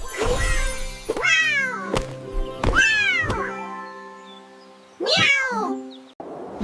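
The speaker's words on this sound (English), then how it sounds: "C for cat." A cartoon cat in an animated alphabet song meows three times, each cry long and rising then falling, close and clear with short pauses between and no talking.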